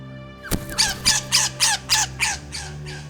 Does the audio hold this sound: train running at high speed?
no